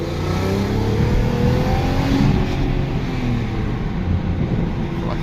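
A tuned MK2 Audi TT Quattro with 034Motorsports ECU and DSG tune accelerates hard, its engine droning loud and steady from inside the car, with road roar and no talking.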